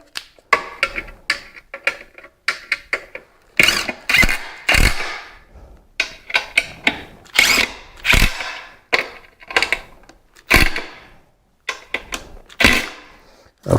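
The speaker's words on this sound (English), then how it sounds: "we'll tighten them up with our screwdriver" A screwdriver tightens ceiling fan blade screws on a walnut-finish wave ceiling fan, making sharp, close ratcheting clicks in short irregular bursts separated by brief pauses, with no talk.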